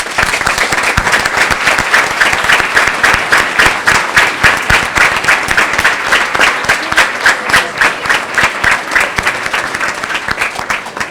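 A school audience applauds a teacher at a Year 6 graduation ceremony, a loud, sustained burst of dense clapping that carries steadily for the full stretch with no talking over it.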